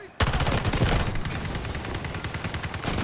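Rapid automatic SG552 rifle fire in the shooter Delta Force, a loud sustained burst of close, evenly spaced shots running almost the full length.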